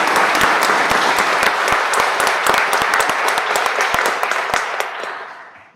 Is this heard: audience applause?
yes